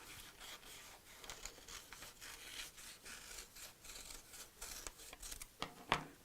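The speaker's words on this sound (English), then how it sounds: "Take a pair of scissors" Scissors snip through folded paper to cut out a heart shape, a run of soft close crinkling and rubbing cuts that ends in a few sharper snips, with no talking.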